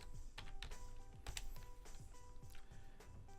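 Quiet clicking of a computer keyboard as a command is typed, a quick uneven run of distinct keystrokes close by, with no talking.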